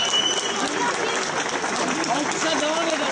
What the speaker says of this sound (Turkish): Alkışa devam edelim